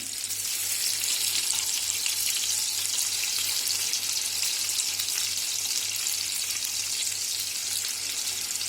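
Chicken mince cutlets frying under a lid in a covered pan, a continuous even sizzle with a faint low hum beneath it, steady and close throughout.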